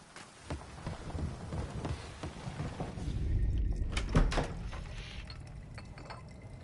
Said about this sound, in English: Oh, does it have to rain?